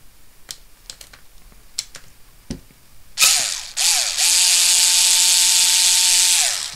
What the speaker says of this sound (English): So I'm just going to unscrew the motor.